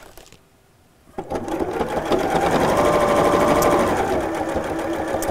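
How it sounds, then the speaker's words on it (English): A sewing machine stitching around the edge of fabric on a small stitch length, starting after a brief quiet moment and then running steadily with a close, fast mechanical whir and rattle. "I'm going to sew all the way around the edge."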